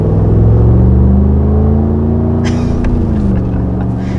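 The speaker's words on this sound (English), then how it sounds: "The exhaust, though, like, yeah, I didn't expect it to sound like this." A 2020 Mercedes G550 SUV's deep, loud engine exhaust rumble drones steadily, then eases slightly as a few brief mechanical clicks break in near the end.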